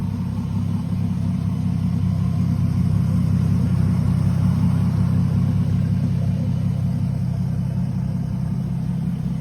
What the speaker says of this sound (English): Give it a rev. I want to hear this thing.